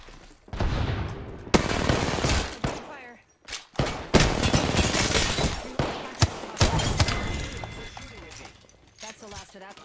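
Gunfire bursts in the Apex Legends battle royale game, with rapid fusillades, sharp single shots and impacts spread across the clip, loud and close, under a player's talk.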